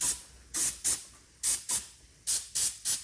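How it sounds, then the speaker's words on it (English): Aerosol lubricant sprayed onto the ends of engine push rods: six or seven short, sharp hissing bursts in an uneven rhythm, close and fairly loud, with quiet gaps between them and no talk. "So I pretty much just spray the ends of the push rods"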